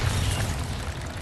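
A Bombarda explosion spell in Hogwarts Legacy, a short heavy boom with a deep rumbling body that quickly settles into a fading crackle.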